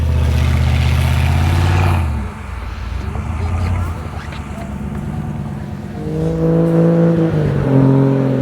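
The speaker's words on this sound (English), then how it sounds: "That's how fast that thing moves in first gear. Full throttle, barely moving." Off-road vehicle on 37-inch tires, engine held at full throttle in first gear in snow, a loud steady droning roar that dips briefly then climbs back to a strained high rev while barely moving, with voices talking over it.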